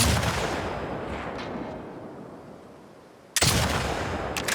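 Gunfire in The Last of Us Part II, a dense burst of loud broadband shots and rumbling echo that fades over several seconds before another sharp, close shot cuts in with a sustained roar.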